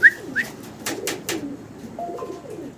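Pigeons in a fancy-pigeon seller's loft give soft cooing calls with a few sharper chirps and fluttering, moderately close, and no one speaks.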